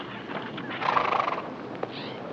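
A horse gives a short, shrill whinny near camp, rising then trailing off over a low outdoor background, with a brief snort afterward.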